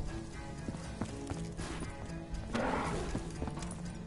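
Rhythmic clip-clop of a galloping horse, fairly faint and steady, with a brief crash-like scuffle midway through; no voices.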